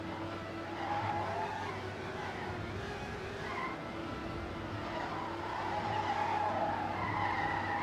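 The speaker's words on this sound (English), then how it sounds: "the crazy speed drifts that Lurk is putting out here is winning him this matchup" A car drifting at speed in the racing video game Trackmania on a FunSpeed map, with a continuous loud tire squeal and skid over a droning engine, no talking.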